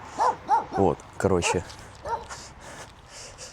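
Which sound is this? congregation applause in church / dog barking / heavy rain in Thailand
dog barking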